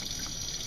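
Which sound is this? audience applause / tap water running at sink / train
tap water running at sink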